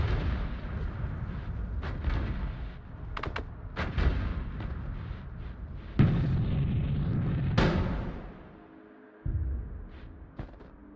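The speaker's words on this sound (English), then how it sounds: "Then what's exploding?" Explosions from the pixel-physics video game Noita, a series of sharp booming bursts scattered through the stretch with a sustained rumbling roar in the middle, loud and without talk.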